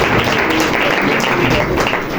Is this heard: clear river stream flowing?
no